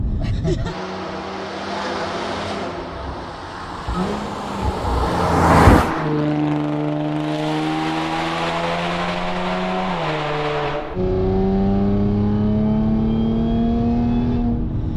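An Audi S4 B8 engine revs hard in steady, rising harmonic sweeps, loud and close, with a brief sharp burst partway through and the pitch climbing again near the end, its sound changing around 5000 rpm.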